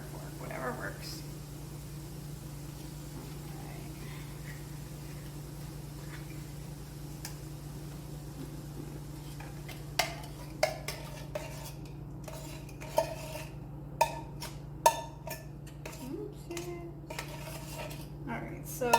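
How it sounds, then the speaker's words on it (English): While red curry vegetables are being made, canned coconut milk goes into a pan, with scattered metallic clinks and scrapes of a utensil against the can and pan in the second half, close but fairly quiet over a low hum. "So the next step is putting our coconut milk in."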